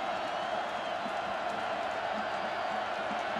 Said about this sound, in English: This crowd is getting cranked up once again.